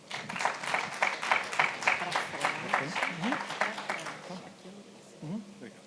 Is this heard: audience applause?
yes